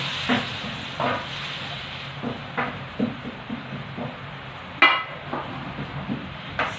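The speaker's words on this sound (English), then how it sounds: "So this is the tomatoes, onions, and chopped garlic. Just sauteed in here in my wok." Tomatoes, onions and chopped garlic sauté in a wok with a steady, loud sizzle, broken by a few sharp stirring scrapes and clacks throughout.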